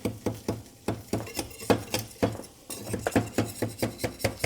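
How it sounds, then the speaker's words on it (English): A small knife scrapes and clinks repeatedly against the metal sides of a Detroit-style pizza pan, loosening baked cheese from the edges in a quick, uneven rhythm of close metallic taps. "we wanna take our little knife and work our way around and make sure that all the cheese is loosened up from the sides"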